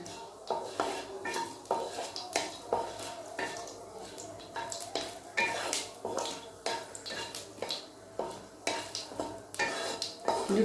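Dry red chillies and panch phoron frying in a pan for raw mango chutney, with repeated metallic clinks and scrapes of a utensil against the pan over a soft background sizzle, close and steady throughout.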